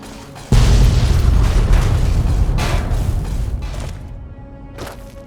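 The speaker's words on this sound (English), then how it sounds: "That's gonna explode again." A heavy explosion in the game Fallout TTW: a sudden, loud, deep boom, then a long rumbling roar that fades over several seconds, with a few fainter thuds near the end.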